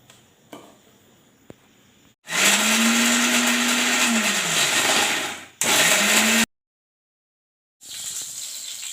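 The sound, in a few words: mixer grinding green chillies and garlic into paste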